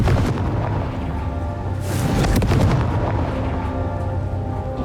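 Confringo fire-blasting spell cast in the Hogwarts Legacy wizard game, a loud rumbling burst with a crackling, booming swell in the middle of continuous noisy combat.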